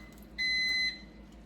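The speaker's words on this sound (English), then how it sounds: "The microwave is telling me that my potatoes are done" A single steady electronic beep from a microwave oven signalling it is done, about half a second long, rings out clearly over a low background hum.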